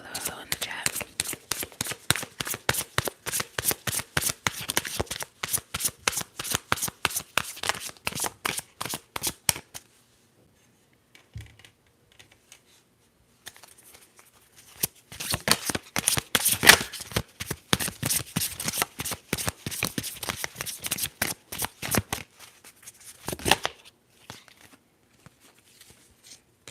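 Tarot cards being shuffled up close during a soft-spoken reading, long rapid riffling runs of crisp flicking taps, a pause of near silence, then another extended shuffle and a final short burst, with faint quiet speech at times.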